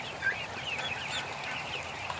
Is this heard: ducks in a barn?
yes